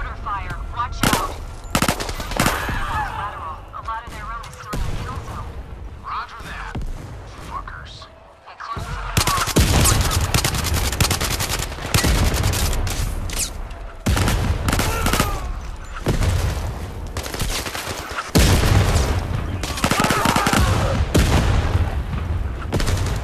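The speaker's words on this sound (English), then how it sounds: "Heavy mortar fire" Heavy mortar and gunfire in the VR shooter Zero Caliber, dense bursts of automatic fire and booming blasts in rapid succession, with a voice talking under the din and a brief lull midway.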